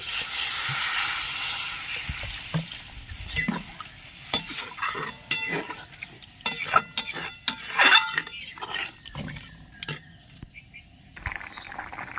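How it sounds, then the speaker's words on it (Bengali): Water hits a hot pan of curry for fish roe fritters with a hissing burst of steam and sizzle. The sizzle fades into clattering stirring and scraping knocks, loud and close, with a fresh hiss near the end. "জল দিয়ে দিচ্ছি"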